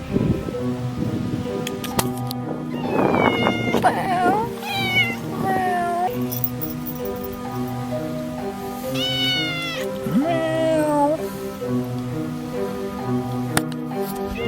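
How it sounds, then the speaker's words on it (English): A neighbour's cat meows several times close by, the drawn-out, rising and falling cries standing out over a steady background hum with some soft rustling. "So this is the neighbour's cat,"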